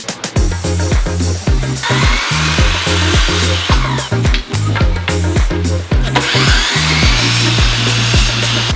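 A power saw cuts decorative wood molding with mitered corners, a loud continuous whine with repeated rhythmic pulses throughout, close up.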